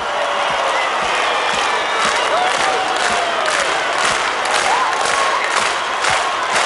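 Concert crowd at an 1980s-style pop dance show cheering and clapping along, a loud continuous roar of voices with rhythmic claps and occasional whoops.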